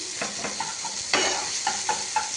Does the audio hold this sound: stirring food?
yes